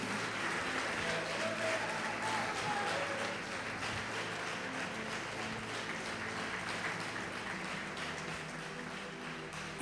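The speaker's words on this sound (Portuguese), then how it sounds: "agora pode aplaudi-lo, agora pode adorá-lo, pode glorificá-lo" Church congregation applauding during a worship service, a steady, dense wash of clapping filling the whole stretch at even loudness with no clear talk over it.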